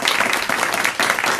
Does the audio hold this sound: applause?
yes